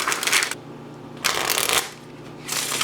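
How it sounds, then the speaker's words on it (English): A deck of stiff, snappy paper playing cards is sprung from hand to hand three times, each burst a loud, fluttering rush of rapid card flicks lasting about half a second. "The springs come out great because the paper is so snappy."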